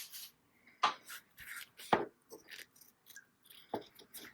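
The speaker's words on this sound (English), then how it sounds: "now I'm gonna trim it" Scissors snip fabric trimmed while sewing a bag, giving a series of short, crisp cuts at uneven intervals. The snips are close, with a few louder strokes among softer ones and no talking.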